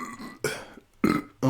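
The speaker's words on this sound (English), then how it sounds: "I have a burp." Three loud, close burps from a person, coming in short throaty bursts separated by brief pauses, with no talking.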